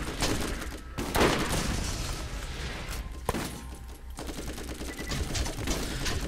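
Combat rifle fire in Borderlands, dense rapid bursts of shots over a loud continuous game soundscape, close and sustained for most of the stretch.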